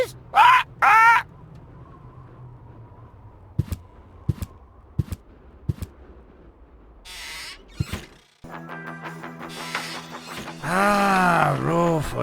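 A bird in the Deponia video game squawks in short raspy bursts, then falls quiet under a low hum and scattered clicks before louder wavering cries and game music return near the end.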